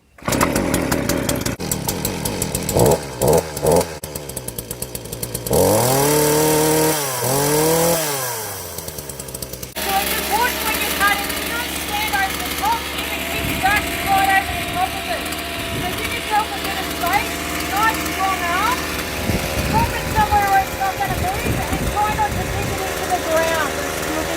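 Chainsaw being primed, choked and pulled to start, with sharp cord pulls and sputtering attempts before the engine catches and runs steadily, loud and close, revving at times.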